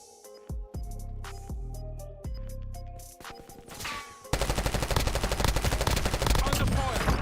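Rapid gunfire in a Call of Duty-style shooter game, with sharp single shots and game voice cues at first, then a loud dense burst of automatic fire and explosions filling the rest.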